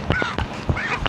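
Poultry calling in short, honking bursts near a temple, several loud squawks in quick succession, close by, with no one speaking.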